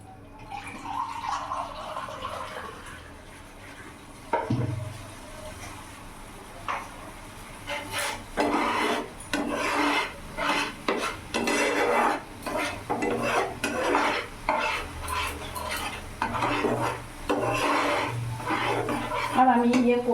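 Spice paste for a mustard and aubergine fish curry, moistened with a little water and stirred in a pan, giving repeated rhythmic scraping and wet rubbing strokes, fairly close, with a voice talking over part of it.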